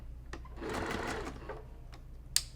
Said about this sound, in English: when I start stitching, I'm going to stitch a few stitches and back stitch.